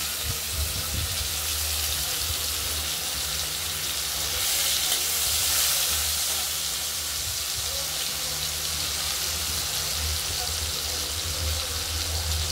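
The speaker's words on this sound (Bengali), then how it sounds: "চিংড়ি মাছগুলো আমরা একটু ভেজে নেব।" Prawns fry in hot oil with cinnamon and cardamom for a prawn and bottle gourd dish, giving a steady, dense hiss of sizzling that holds evenly from start to finish, close and fairly loud.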